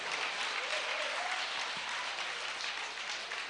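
A church congregation breaks into sustained, steady applause acclaiming the Lord, a dense wash of clapping that stays even and fairly loud throughout with no voices standing out.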